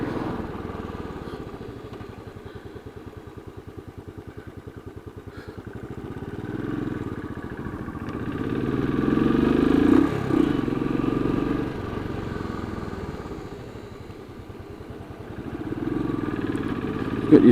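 A 2017 Royal Enfield 500 Classic Battle Green motorcycle with ABS runs steadily with a low, throbbing single-cylinder thump, rising and easing as it rides along, heard close and continuous with no talk.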